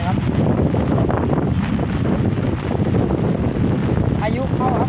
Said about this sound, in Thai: โอ้ลมแรงครับ